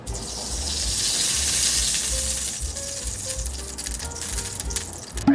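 Cooking oil sizzles and crackles steadily as it heats in a pan, a dense close frying hiss with small faint tonal clinks, no talking.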